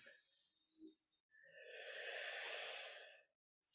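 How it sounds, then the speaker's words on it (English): A slow, deep breath drawn in during guided meditation, a long airy inhalation swelling over about two seconds, preceded by a brief softer breath sound, quiet and close with no talking. "And then let's take our deep breath"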